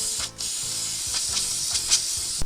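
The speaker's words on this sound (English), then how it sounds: "because of all the mud I decided to spray it down with some brake cleaner" Brake cleaner sprays in rapid bursts onto muddy rear brake parts of a 3rd gen Toyota 4Runner, a loud close hiss pulsing with the trigger's rattling pump action, ending on a sharp clunk.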